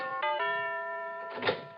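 Sound-effect doorbell in a Christmas radio horror drama, wired to play a festive chime: a bright, ringing tonal melody with sustained overtones, close and alone, ending with a short noisy thump.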